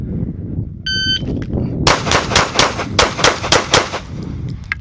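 Rapid gunshots from a practical shooting class run, a fast string of loud, sharp reports close by after a brief electronic beep from a shot timer.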